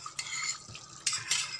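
Spooning yogurt into chicken cooking in a pan: scraping, stirring spoon sounds against the pan over a soft background sizzle, close and fairly quiet, with no talking.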